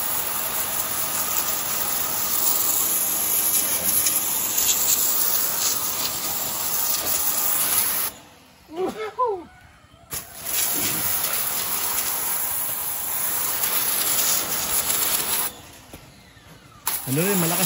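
A water pressure sprayer blasts mud off a goat with a loud, steady hissing roar close by. The spray cuts out briefly twice, and a voice can be heard during one of the gaps.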